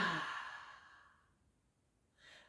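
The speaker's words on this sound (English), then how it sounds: "Keep holding the breath for as long as you comfortably can. And then again, exhale." A long, breathy exhale during a yoga breathing exercise, close and soft, fading out over a couple of seconds before a short new breath begins.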